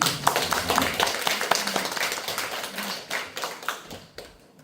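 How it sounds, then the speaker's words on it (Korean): Lecture audience at a literary hall clapping to welcome a professor: a moderate patter of handclaps with a few sharp individual claps, thinning and fading toward the end. "다시 한번 박수 좀 부탁드리겠습니다."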